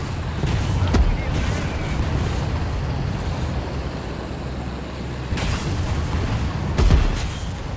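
A few deep tank cannon booms in the video game War Thunder go off a few seconds apart over a constant rumbling engine drone, heavy and close.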